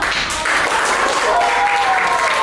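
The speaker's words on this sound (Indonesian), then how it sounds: "Dan untuk semua orang di sini kita kasih aplaus yang bagus" Steady applause fills a classroom as students clap for their classmates' work, a dense, even wash of many hands that holds at a loud level throughout, with faint talk beneath it.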